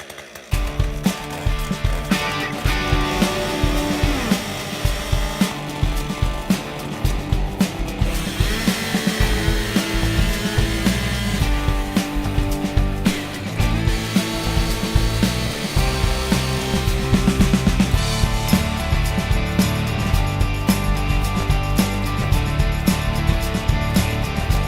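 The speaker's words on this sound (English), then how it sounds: "So I'm going to go in there today with the chainsaw and just start removing some of the trees." Chainsaw felling and clearing trees on a goat silvopasture farm, its engine droning steadily and loudly throughout with rising and falling revs as it bites into wood.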